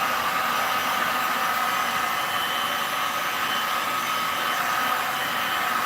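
Heat gun blowing hot air over a resin countertop, giving a loud, steady, close whooshing roar with no pauses or voices.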